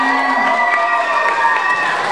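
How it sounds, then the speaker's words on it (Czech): Concert crowd at a Czech music festival cheering and clapping continuously, a loud, steady wash of many voices and hands with no pauses. "A poprosil bych second potlesk."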